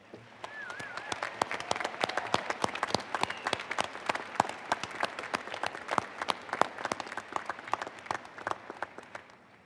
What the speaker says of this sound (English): give a brief round of applause for the sacrifices and investments of those here today